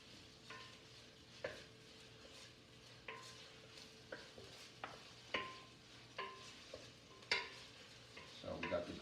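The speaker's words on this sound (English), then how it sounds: "Garlic sauteing in there." Garlic sautés in a pan for a lemon tarragon chicken soup, a soft sizzle under repeated stirring scrapes and light utensil knocks at a fairly even rhythm, quiet and close.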